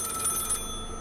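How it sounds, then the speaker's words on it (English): Old-fashioned telephone bell ringing in a Victorian-era horror game setting, a steady electric trill over a low ambient drone that cuts off partway, leaving only the hum. "Okay, I guess we better get the phone."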